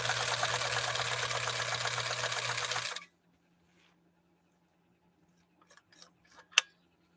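A 1954 Husqvarna sewing machine fitted with a leather needle stitches stiffened 100% cotton in a fast, steady, close run of about three seconds, then stops, leaving near silence broken by a few faint clicks.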